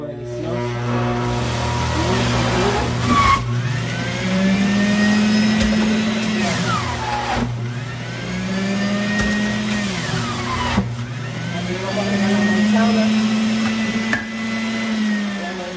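A juicer machine whirs in repeated bursts of several seconds each while processing carrot, orange and apple for juice, its motor loud and close with short pauses between runs.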